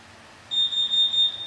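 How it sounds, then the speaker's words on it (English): A smoke alarm beeps in a high, piercing tone, sounding from a little distance, with short gaps in an otherwise continuous shrill chirp. "There's another smoke alarm somewhere that's going off."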